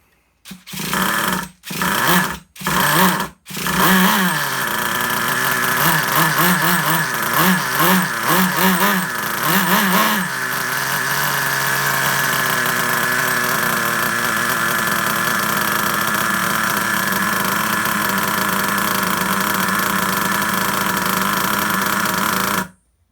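A vintage Traxxas Rustler RC car's nitro engine, running rich, sputters through a few brief bursts before catching into a loud, close, high buzzing idle that wavers and surges briefly, then holds steady and unevenly until it cuts off.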